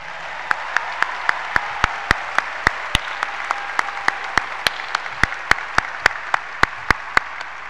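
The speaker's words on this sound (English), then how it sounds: "How about a special round of applause for Karen LaForce and Jennifer Hall" A crowd at a high school graduation applauds steadily and loudly, with sharp individual claps standing out at regular intervals through the sustained clapping.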